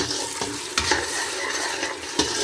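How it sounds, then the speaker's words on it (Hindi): Tomato paste is stirred into pasta sauce in a hot pan, a continuous frying hiss punctuated by a few scraping strokes of the spoon, close and steady, with no voices. "तो इस पॉइंट पर मैं इसमें ऐड करूंगी टमाटर का पेस्ट।"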